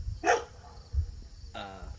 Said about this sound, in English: that's a neighbor's dog.